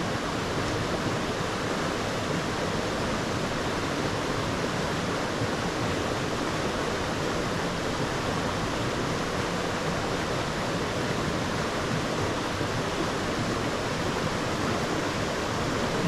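Steady, dense rush of river water flowing all around, heard from right in the river while fly fishing on Dartmoor, constant and loud with no voices.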